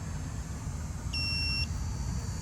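Battery analyzer testing a Toyota Camry battery gives a single steady electronic beep of about half a second over a constant low engine-bay hum.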